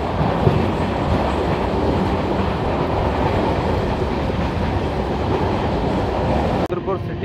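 A Lalkuan–Bandra superfast express runs at full speed on the rails near Rudrapur City station, a loud, steady, close rumble of wheels and carriages that continues throughout and drops away briefly at the very end.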